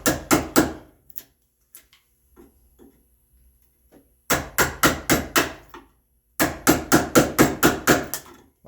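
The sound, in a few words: chisel chopping waste from red oak tenon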